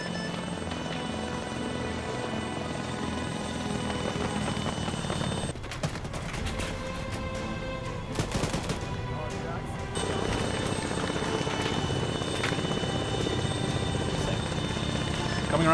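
Helicopter in ArmA 3 flies with a loud, steady rotor drone and engine whine throughout, pierced by sharp bursts of gunfire and clatter in the middle, with voices talking over it.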